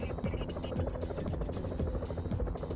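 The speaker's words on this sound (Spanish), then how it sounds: "No, helicóptero." A helicopter in the Pro Cycling Manager video game during a Giro d'Italia stage gives off a steady, fairly quiet rotor buzz and hum, with someone talking over it.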